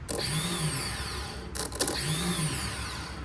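An LTZ400 ATV starter motor spins on a bench test, a loud, close electric whir that runs continuously with a brief dip and surge in the middle, and no talking.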